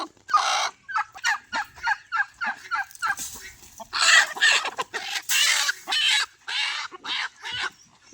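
A native country hen (desi nattu kodi) clucks repeatedly in close, loud bursts, a steady series of short calls with brief pauses and no talking.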